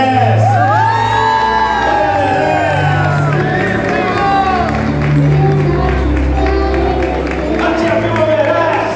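A crowd at a fifteenth birthday celebration cheers and whoops loudly, with children shouting and some clapping mixed in. The noise continues steadily for about nine seconds, with voices rising and falling over a dense, close party din.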